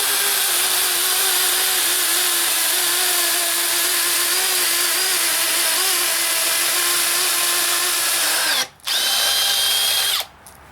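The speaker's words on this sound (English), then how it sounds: "So here we go on the same exact speed with that 5/8 inch drill bit." A Makita XPH07 brushless hammer drill bores into cinder block with a 5/8 inch bit, a loud, close, steady high whine for about eight seconds, then a brief stop and a short second burst.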